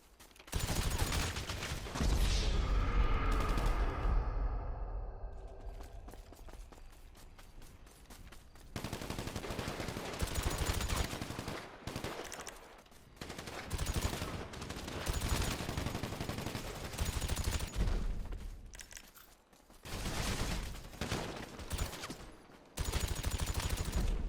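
Video game shootout at an airport, with rapid bursts of gunfire using armor-piercing rounds, loud and close, coming in repeated volleys broken by short pauses.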